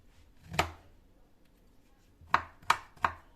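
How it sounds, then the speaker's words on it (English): A knife chops guava against a cutting board: one sharp knock, a pause, then three quick cuts in a row, close and crisp. "So I'm going to cut the guavas."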